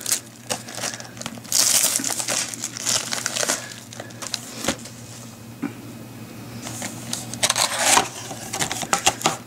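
Magic: The Gathering booster pack wrapper being cut open with a dull pair of scissors, giving bursts of crinkling foil and rough snipping, near and fairly quiet, with pauses between cuts and no talking.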